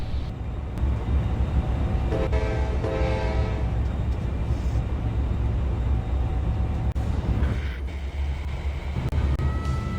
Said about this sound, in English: Here we are departing from Moncrief Yard on my train, the Q458